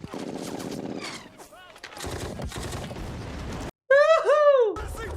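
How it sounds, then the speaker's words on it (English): Gunfire and explosions from a World War II TV drama, bursts of rifle and machine-gun shots mixed with shouting soldiers, loud and chaotic, with voices talking over the battle noise. "Suppressing fire now!"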